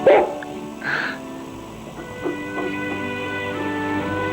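A dog named Chips gives a few short barks and yips at the start, with a higher whimpering yelp around one second, then quieter background hum and faint rustle with no further barking.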